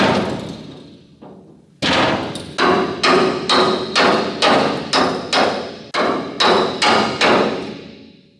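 A big hammer pounds steel during tugboat demolition, about ten heavy, evenly spaced metallic blows ringing close and loud after a short scrape.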